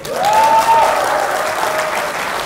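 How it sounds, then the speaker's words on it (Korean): An audience at a history lecture breaks into loud, sustained applause, a thick continuous clatter of many hands that swells early and then holds steady, with a faint whoop or cheer riding briefly over it. "이때 박수 나와야 됩니다"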